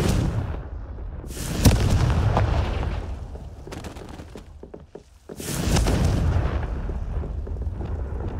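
Fire spells explode one after another in Hogwarts Legacy, loud booming blasts with a roaring rumble that swells, fades, then surges again, close and dominant with no speech over them.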